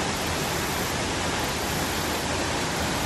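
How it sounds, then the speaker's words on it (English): A waterfall roars as a steady, dense rush of falling water, even and unbroken throughout with no voices. "Yep, that's the waterfall."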